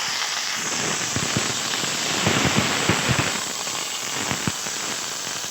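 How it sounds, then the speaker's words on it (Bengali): Sliced okra frying in hot oil in a wok throws up a loud, close sizzle full of crackles and sharp pops that swell in the middle and then settle to a steady hiss. "প্রথম ঢেঁড়সের ঝালটা করে নেওয়ার জন্য দেখো একটু ঢেঁড়সটাকে ভেজে নেবো।"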